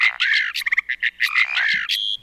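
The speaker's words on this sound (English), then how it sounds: "That high note is a katydid." A mockingbird sings bright, varied phrases in a nature remix from the Chesapeake Bay, with a high katydid note and a backdrop of crickets and cicadas, the calls arriving in quick bursts, close and fairly loud.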